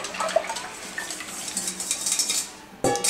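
Utensil scraping and clinking against a saucepan as a maple syrup crème brûlée mixture is stirred, light and uneven, followed by a brief louder clatter at the end.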